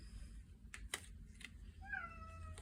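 A faint cat meows once, a short rising-falling cry, after a few soft clicks over a low rumbling background.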